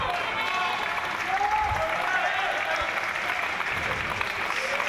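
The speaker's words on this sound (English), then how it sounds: "And the Great Britain crowd giving him a bit of encouragement as well." A Great Britain crowd at a para table tennis championship applauds steadily to encourage a player, continuous clapping filling the hall, with a commentator talking over it.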